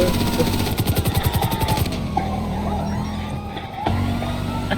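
A police car siren in the video game Grand Theft Auto V wails loudly and close, starting with fast pulsing yelps and then switching to a slower rising and falling tone over a steady engine rumble.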